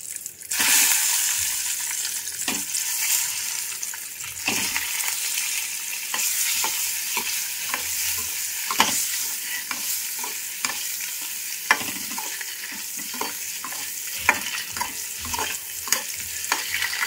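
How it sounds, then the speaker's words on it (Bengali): Eggs frying in hot oil seasoned with salt and turmeric, giving a steady close sizzle with scattered crackles and soft scraping stirs throughout, no voices. "এটার মধ্যে তেলে দিয়ে দিচ্ছি একটু নুন আর একটু হলুদ। ডিমগুলো ছেড়ে দিচ্ছি।"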